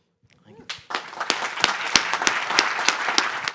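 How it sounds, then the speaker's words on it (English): Audience applause at a panel event on employee ownership in manufacturing starts with a few scattered claps, then swells into steady, dense clapping with sharp individual claps standing out near the listener. "Give another round of applause for Doug and all the exciting research that Rutgers has led on"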